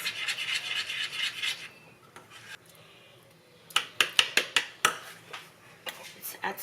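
Seasoned food stirred in a pan after salt, pepper and onion powder go in, with bacon fat nearby: soft scraping and rubbing at first, then a run of sharp utensil clicks and knocks against the pan, close and fairly quiet.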